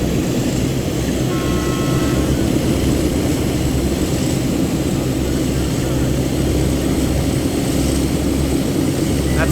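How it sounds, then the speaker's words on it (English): A DE 24000 diesel locomotive engine in a Taurus Mountains train simulator game revving past 900 RPM gives a loud, steady, dense mechanical drone that fills the whole stretch without letting up. "Once you push it past 900 RPM, the noise level is just unbelievable."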